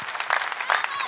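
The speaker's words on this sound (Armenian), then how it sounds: "վայելեք ծափահարությունները" An audience at an Armenian show fills the moment with sustained clapping, a dense even wash of hands with a few louder swells, while faint crowd murmur sits underneath.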